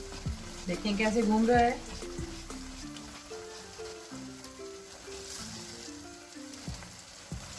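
Atta halwa fries and is stirred in a pan over low flame, a soft sizzle with scraping stir strokes; someone talks over the first seconds, then the quiet frying continues.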